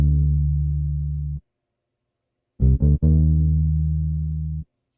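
A deep mono synth bass one-shot plays a short MIDI pattern: one long sustained low note, a pause, then two quick stabs and another long held note, loud and clean with nothing else.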